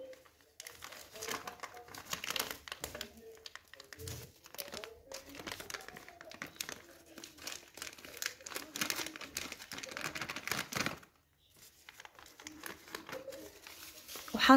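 A plastic bag of salt being opened nearby, with crinkling and rustling under a voice that talks throughout, then a brief pause and more rustling.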